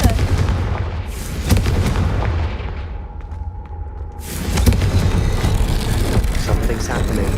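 Confringo fire spell cast in the video game Hogwarts Legacy, heavy booming blasts and crackling bursts up close, a quieter lull in the middle, then a renewed loud rumbling roar.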